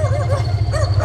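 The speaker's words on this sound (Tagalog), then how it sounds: "Tatahulan yung mga aso." Dogs barking at night around a house along a rural forest road in Zambales, a series of loud, close yips and barks repeating over a steady low engine rumble.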